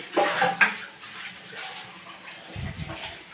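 A lid is set down with a short metal clatter on a pot of prawn curry with potato, eggplant and red amaranth greens, followed by quiet kitchen noise and a soft low thump near the end.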